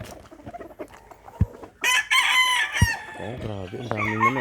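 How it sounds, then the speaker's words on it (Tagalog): Many chickens on a rural Philippine home property, with roosters crowing loudly and hens clucking; several overlapping crows ring out close by among scattered sharp clucks and yard noise. "Oh, grabe. Ang daming manok."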